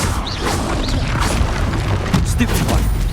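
Confringo spell blasts in Hogwarts Legacy, dense booming impacts and crashing bursts layered over clattering combat effects, loud and continuous through a few seconds of fighting.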